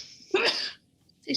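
A single sharp sneeze bursts out at close range during a tabletop dice game, followed by a brief quiet and a short vocal sound.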